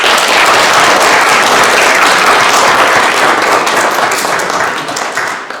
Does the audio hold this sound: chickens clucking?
no